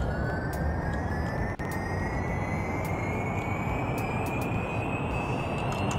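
Rocket engines powering up in the Kerbal Space Program video game, a loud, steady broadband roar with a thin whine rising slowly in pitch throughout, heard alone without talk.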